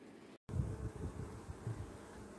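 Honeybees buzz at a hive in a low, steady drone close by, a dense swarm humming continuously with a brief break near the start.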